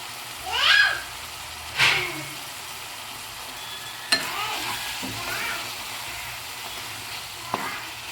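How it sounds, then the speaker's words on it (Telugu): Eggplant pieces sizzle in hot oil in a pan, a soft steady frying hiss with a few sharp stirring scrapes and clinks scattered through. "ఈ వంకాయలు కూడా వంకాయ ముక్కలు కూడా ఆయిల్లో కొంచెం బాగా ఫ్రై అవ్వాలి"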